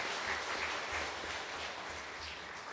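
A church congregation applauds to welcome newcomers at a Sunday service, a soft continuous spread of many hands clapping in a large room, steady and fairly distant, over a low hum.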